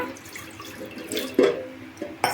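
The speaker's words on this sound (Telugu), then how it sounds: "ఇది ఇంకా మొలగలేదు కాబట్టి సెకండ్ గ్లాస్ పోస్తున్నా" A second glass of water poured into a pot while making junnu from colostrum: a short close splashing pour swelling in the middle, with small drips and clinks around it and no talk.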